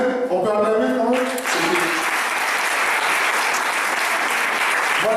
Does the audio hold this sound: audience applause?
yes